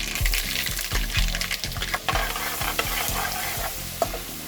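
Bay leaves and garlic sizzle and crackle in hot oil, with repeated scraping stirs of a spoon in the pan giving a steady, busy rhythm close by.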